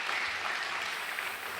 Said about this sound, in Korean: 우리 청년들, 너무 귀한 청년들을 위해서 우리 다시 한번 격려의 박수를 부탁드리겠습니다